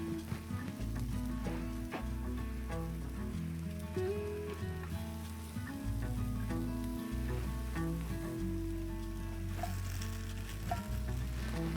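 Pasta and heavy cream sizzling hard in a very hot wok over a charcoal fire, a continuous close crackling fry with low rumbling underneath, no voices.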